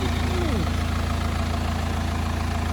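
A BMW car engine idles with a steady, low, even hum close by, while a person talks briefly over it near the start.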